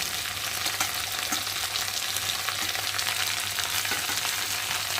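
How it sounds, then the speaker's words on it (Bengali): Taro and potato frying in hot oil with cumin paste, ginger paste and green chili, a steady close sizzle with faint scraping, no voices. "কচু আলুটা ভালো করে ভেজে নিয়েছি আর এখন আমি এর মধ্যে মশলা দেবো এই যে জিরে বাটা আদা বাটা কাঁচা লঙ্কা"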